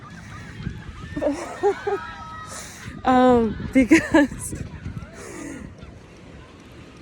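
A person imitates seagull calls with a series of honking, squawking vocal cries at close range, outdoors on a beach walk, with breathy talk before and after.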